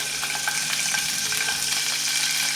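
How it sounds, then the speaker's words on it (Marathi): Paneer cubes frying in hot oil over medium-high heat, a dense, steady sizzle with small crackling pops throughout, close and fairly loud, no voices. "हे पनीरचे क्यूब्स घालून घेऊयात आणि छानपैकी फ्राय करून घेऊयात"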